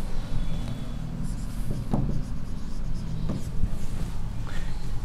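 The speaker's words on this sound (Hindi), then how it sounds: "यहां पर गिवन लिखते हैं" Marker or chalk writing on a board in a classroom geometry lesson, with steady scratchy strokes and a few sharp taps, close and moderately loud, with faint talk in the background.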